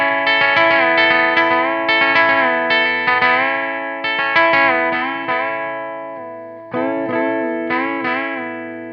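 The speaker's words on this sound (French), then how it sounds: "essayez justement d'aller chercher un petit peu l'expression sur la guitare en allant chercher le chevalet comme ça" Country-style blues lick on an electric guitar picked close to the bridge, bright twangy notes with slides and bends in a steady phrased run, loud and close with effects and slight echo, no talking.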